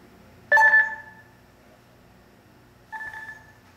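Two short electronic telephone-style tones, one sharp and louder, then a softer repeat about two seconds later, as an ESChat LTE three-way push-to-talk call starts, heard alone against quiet background.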